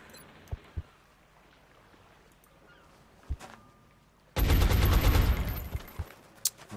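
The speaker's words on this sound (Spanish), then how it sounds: "Pues le disparo otra vez, hombre" Gunfire in the video game XCOM Enemy Within: a few sharp isolated shots, then a loud dense burst of automatic fire lasting about two seconds, followed by scattered single pops.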